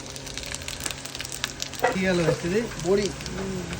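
Dry red chillies and panch phoron hit hot mustard oil in a pan, bursting into a loud crackling sizzle with popping spits that swells midway and keeps frying steadily.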